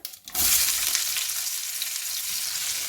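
Chopped ivy gourd (tindora) hits hot oil with asafoetida and turmeric, bursting into a loud, steady sizzle close by that keeps crackling without letup, with no talking.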